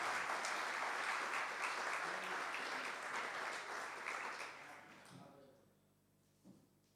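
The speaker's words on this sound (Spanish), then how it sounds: "Aplauda al Señor en esta tarde." Congregation applauding during a Spanish-language church sermon, a dense broad wash of clapping that holds steady for about five seconds, then fades away, leaving faint room noise and a soft voice near the end.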